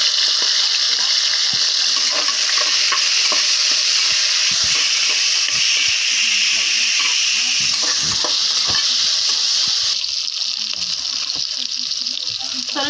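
Ginger garlic paste sizzles and fries steadily in a pan, a continuous bright hiss with faint stirring scrapes and clinks throughout, no voices.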